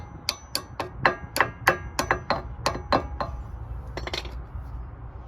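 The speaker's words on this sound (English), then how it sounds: "And then with some taps of a hammer" A dozen or so sharp metallic hammer taps on a metal brake pin of a Lexus LS400, in a fairly even rhythm, close by, with a cluster of quicker lighter taps near the end.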